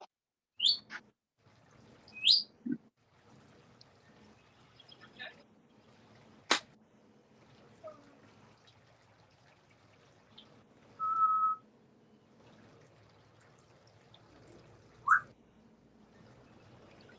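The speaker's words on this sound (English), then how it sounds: "Is that Phil's bird or is that birds chirping around Phyllis? I can't tell. That's Phil. Our bird" A pet bird indoors gives sparse, quick chirps and short whistles scattered across the stretch, mostly faint with a few sharper calls. Low room noise and quiet human sounds sit underneath.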